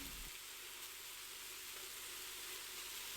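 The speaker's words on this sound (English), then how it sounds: "Mix the garlic in and quickly cook it for 30 seconds." Three cloves of minced garlic, stirred in with sliced mushrooms, sizzle and fry steadily in an Instant Pot, a continuous close hiss at even loudness with no talking.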